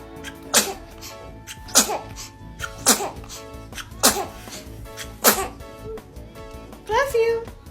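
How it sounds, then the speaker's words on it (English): A baby sneezes repeatedly, about five sharp little bursts spaced roughly a second apart, close and clear, while an adult talks softly between them. "Oh, goodness. Were you about to sneeze?"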